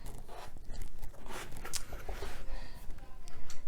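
Rotary cutter slicing quilting fabric on a cutting mat, a short scraping pass heard close up with faint rustling and no talk.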